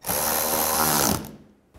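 A ratchet tightening radiator bolts on a 2007–2010 BMW X3, a rapid, close whirring buzz of pawl clicks lasting about a second before stopping abruptly.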